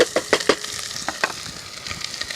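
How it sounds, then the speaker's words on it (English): Onions hit hot oil in a pot on the stove, a close crackling sizzle with several sharp spattering pops at the start that thin into a lighter, steady fry. "bring a little bit of oil up to the nice hot heat. I'm going to add the onions"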